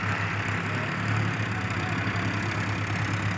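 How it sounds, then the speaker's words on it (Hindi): Steady diesel rumble from an Arjun 605 tractor hauling a trolley, a continuous mid-pitched engine drone with slight knocking texture, even in loudness from start to finish and free of voices. "बिल्कुल प्यार से लेकर आया अभी ये ट्रैक्टर 605"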